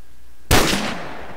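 A single sniper rifle shot in a modded video game: one sudden loud crack after near silence, trailing off into a fading tail.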